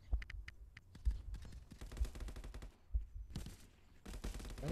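Rapid gunfire from the VR shooter Contractors VR, sharp cracks in quick bursts and scattered single shots, some loud and close, others more distant, with short lulls between volleys.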